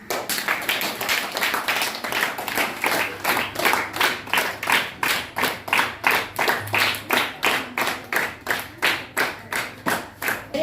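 Telugu-medium ninth-grade students in a classroom clap for a classmate's drawing, a steady run of sharp, fairly close hand claps that keeps going for about ten seconds and gets more evenly spaced and rhythmic toward the end, with no talking.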